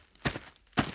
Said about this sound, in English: I also want to feel the dirt with each step.